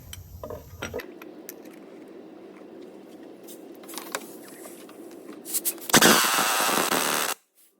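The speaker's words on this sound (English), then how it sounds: "So I'm just going to do it up with the impact driver." An impact driver tightens a bolt on a 2007 Ford S-Max 2.0 TDCi engine during timing belt work, one loud rattling burst of about a second and a half after quiet handling clatter.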